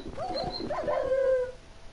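A dog whimpers in Minecraft as it is killed, a short series of high yelping whines rising into a drawn-out plaintive cry, close and alone with no talk.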